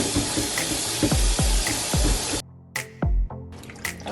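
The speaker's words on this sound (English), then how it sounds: "So now we're gonna wash the chicken with vinegar, apple cider vinegar." Running water splashes in a kitchen sink while raw chicken is washed in cold water with apple cider vinegar, a steady broadband rush broken by a few brief pauses and wet splashes, close and fairly loud.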